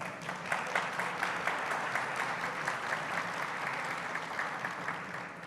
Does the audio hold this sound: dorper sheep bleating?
no